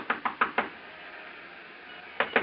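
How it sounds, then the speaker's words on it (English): Knocks land on a hotel room door as a radio drama effect: a firm run of four raps, a pause, then two more, close and clear against a quiet background. "I stopped in front of room 300 and knocked."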